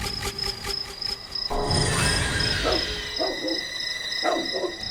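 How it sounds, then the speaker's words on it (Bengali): A dog barks in short, excited bursts on an empty road late at night, the barks coming in quick clusters over a steady chorus of crickets and a high insect trill. "কুকুরটা হঠাৎ এমন ভাবে ডাকছে কেন?"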